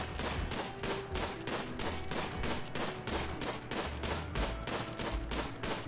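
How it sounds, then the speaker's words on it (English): Rapid gunfire from the video game RimWorld rattles on continuously, dense repeated shots in a steady loud stream with no speech over it. "Please don't shoot Hoshi. Have you even hit him yet"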